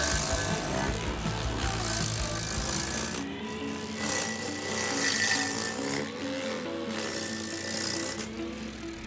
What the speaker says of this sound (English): The Clue SG1SW tree stump grinder can effectively grind tree stumps of different sizes.